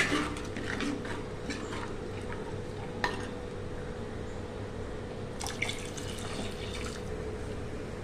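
Tamarind water is poured into a pan of rock-fish curry seasoned with chili and coriander powder, giving a steady close trickle with occasional drips and clinks.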